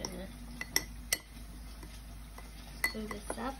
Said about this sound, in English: I'm just gonna stir this up.